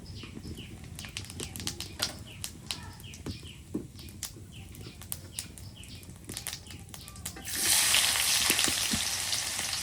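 Cumin seeds dropped into a little hot oil crackle and pop in scattered sharp bursts, and then the frying swells into a steady, louder sizzle partway through.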